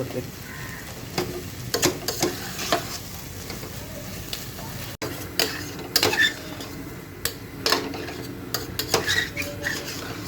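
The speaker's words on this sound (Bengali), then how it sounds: "এভাবে পাঁচ থেকে দশ মিনিটের মধ্যেই নাড়াচাড়া দিয়ে একদম ভাজা ভাজা করে নিয়ে" Boal fish (wallago catfish) is stirred and fried in a pan, with a steady low sizzle under repeated clanks and scrapes of a metal spatula against the pan, close and fairly loud.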